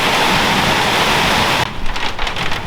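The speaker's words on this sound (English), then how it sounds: "another afternoon thunderstorm is just beginning. It'll be bucketing down soon." Heavy rain at the start of an afternoon thunderstorm, a dense, loud, steady roar of downpour that abruptly thins into patchier splashing drops partway through.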